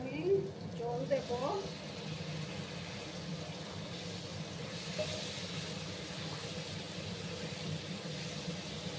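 Water hits a hot pan of frying dried loitta fish, a loud hiss and bubbling burst at the start that settles into a steady steaming sizzle, with a voice briefly heard early on.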